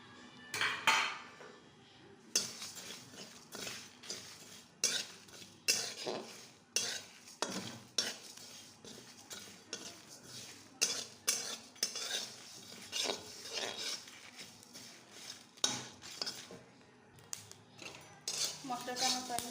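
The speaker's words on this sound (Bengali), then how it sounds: "শুকনো খোলে আমি আগে মশলাটা ভেজে নিই।" Cumin, coriander, panch phoron and dried red chillies dry-roasting in an empty pan, with repeated scraping and clinking of a metal spatula stirring against the pan in irregular strokes, fairly faint, with brief talking at times.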